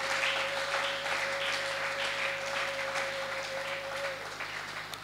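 A church congregation applauding in praise of the Lord Jesus, a sustained wash of clapping throughout, with a held keyboard tone underneath that drops out near the end.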